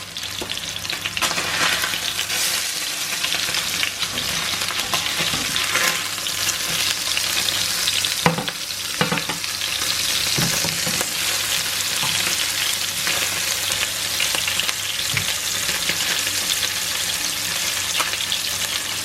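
Halibut and scallops fry in a hot pan, giving a continuous dense sizzle for nearly twenty seconds, with occasional sharper spits and clinks from turning the fish, no voices over it.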